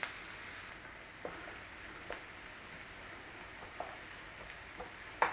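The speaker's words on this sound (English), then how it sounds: "So all we're doing is cooking out the rawness of the onions" Onions cook in butter in a pan with a soft, steady sizzle. A few light knocks from a utensil stand out over it, and no one speaks.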